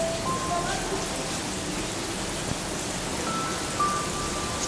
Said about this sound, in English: 10 to 7, it starts pouring rain.